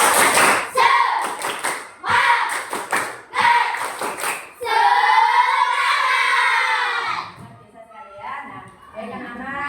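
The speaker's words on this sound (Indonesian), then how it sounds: "Tepuk semangat." A classroom of young students does a rhythmic spirit clap led by their teacher: several quick bursts of sharp group claps, then a sustained shouted chant from many voices, with a little talk at the end.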